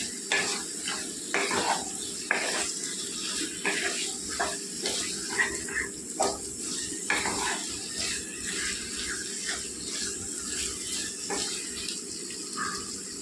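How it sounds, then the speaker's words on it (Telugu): Boneless chicken curry simmers in oil in a pan, giving a steady close sizzle and bubbling with scattered soft stirring scrapes and clinks. No voices are heard. "నూనెలో ఉడకనివ్వాలండి."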